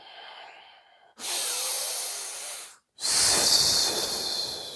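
Two long, loud breaths taken close up, hissy and rushing, separated by a short pause, with no talk.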